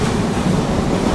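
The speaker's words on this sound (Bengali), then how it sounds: "এই যে রাতের বেলা জানালা দিয়ে একটি ন্যাচারাল বাতাস ঢুকতেছে ট্রেনের ভিতর" Night wind rushes in through an open window of a moving train, a steady, loud, broadband roar with low rumble and no voices.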